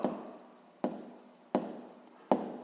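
A pen writes by hand on paper in short rhythmic strokes, each starting with a sharp scratch and fading, repeated four times close up with no talking.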